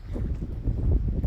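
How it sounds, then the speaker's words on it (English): Wind buffeting a microphone in windy, rainy, blustery weather at Cape Reinga, the northernmost tip of New Zealand, heard as a continuous low rumbling roar that swells and gusts without a break. "It's whippy, windy, rainy, a bit blustery."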